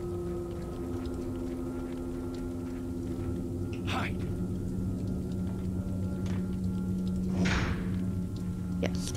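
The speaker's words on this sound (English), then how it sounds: "That seems like a rifle shot" Two rifle shots ring out in Resident Evil 4, a sharp crack near the middle and a louder one toward the end, over a steady hum of game music and ambience.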